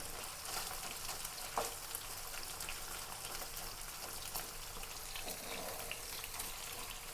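A pot of beef vindaloo simmers while its liquid cooks off, giving a continuous, even hiss and gentle bubbling sizzle close by, with no talking.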